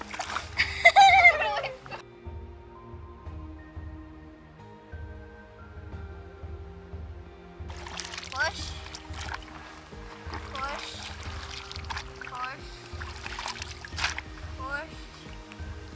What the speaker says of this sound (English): I really love the boat. I love paddling.